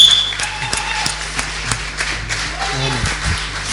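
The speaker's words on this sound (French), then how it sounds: "Nous pouvons applaudir pour notre sœur." Audience applause at a gospel worship concert, a steady patter of clapping with a few sharper taps, sustained throughout at moderate level under a faint tonal hum.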